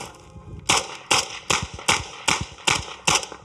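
A rifle fitted with a classic flash hider fires seven sharp, loud reports in quick, evenly spaced succession, each crack cutting off fast with a short ringing tail. No voices are present.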